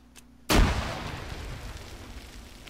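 A grenade blows up against an armored jeep in a video game: one sudden loud blast followed by a rumbling, slowly fading roar, with no talking.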